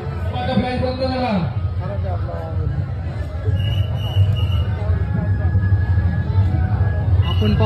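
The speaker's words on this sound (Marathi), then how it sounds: "आपण पाहू शकतो तुफान गर्दी आहे या ठिकाणी" A dense crowd packed around a Ganpati pandal in Pune, a steady loud babble of many voices close by, with clear speech rising above the hubbub throughout.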